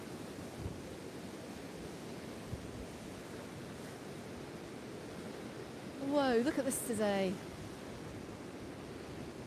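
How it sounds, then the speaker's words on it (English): Choppy sea surf washes steadily onto a beach in Peguera, Mallorca, a broad continuous roar with wind buffeting the microphone, while a man briefly exclaims partway through. "Very, very choppy waters"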